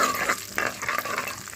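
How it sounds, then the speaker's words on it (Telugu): Green chillies and tomatoes sizzle in hot tempering oil for a mixed vegetable curry, giving a continuous close crackling fry with brief bursts as the pan is stirred, with no talking. "కొంచెం ఈ పోపు వేగితే మనం పచ్చిమిరపకాయలు,"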